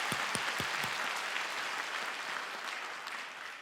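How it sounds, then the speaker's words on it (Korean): A church congregation at a New Year special dawn prayer service claps together in sustained, even applause, a few distinct claps standing out at the start before it settles into a steady roar. "우리 다 같이 큰 영광의 박수로 찬양 드립시다"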